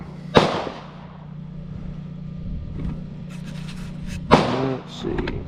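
An FX air rifle fires slugs at a paper target, giving two sharp, close cracks about four seconds apart over a low steady hum, with faint handling noise between the shots.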